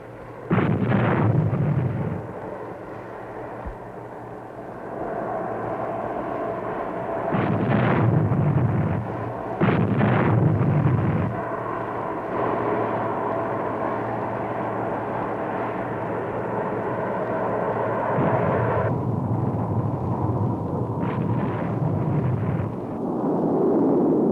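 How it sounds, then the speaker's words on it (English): Heavy artillery fire from a 1968 Marines newsreel, several deep booming blasts in separate bursts over a continuous low rumble, with aircraft engine noise mixed in. "Heavy enemy artillery fire makes every landing a game of chance"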